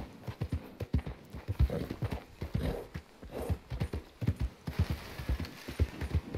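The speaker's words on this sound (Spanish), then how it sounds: "Córrele, caballo." Horse hooves clip-clop steadily in a running rhythm, loud and close, with the occasional snort between strides and no talk over them.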